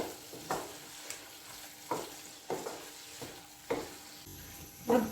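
Cabbage stir-fried in a pan for chicken pasta, a soft sizzle under periodic scraping stirs about once a second, close and moderate in level, with no talk.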